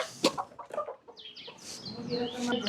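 Hens cluck and squawk close by in short bursts, with a brief voice at the start.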